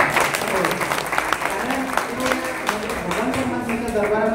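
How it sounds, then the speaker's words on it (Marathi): Audience at a Hari kirtan in Sambhajinagar claps steadily for the sound system team. The applause is dense and continuous, with tonal harmonium or chanting lines sustained underneath it throughout. "एकदा सिस्टीमसाठी टाळ्या वाजवा."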